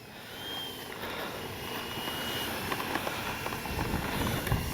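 A Freewing F9F-8 Cougar 80mm electric ducted-fan RC jet flying on a windy day: a faint, steady turbine-like whine mostly buried under loud, gusting wind rumble throughout, with no voices.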